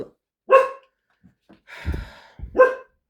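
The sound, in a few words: dogs barking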